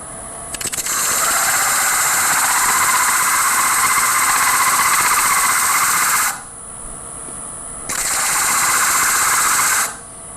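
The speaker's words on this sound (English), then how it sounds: "you take your very expensive sander" A power sander whines loudly against a horn being worked flat, running steady for several seconds, cutting off briefly, then starting again for another short burst.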